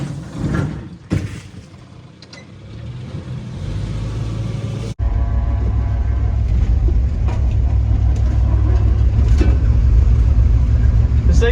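A 1970 Ford Maverick engine rumbles steadily while the car drives through snow, a loud, continuous low drone that swells after a brief gap.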